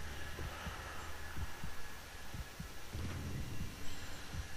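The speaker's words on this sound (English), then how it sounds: "Can hear my heartbeat." A heartbeat in the survival horror video game Dead Space, a low steady thumping pulse under a droning hum of ambient game sound.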